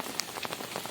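Rain falling steadily during a village flood, a dense close patter of drops on a surface, soft and continuous over a brief stretch with no talking.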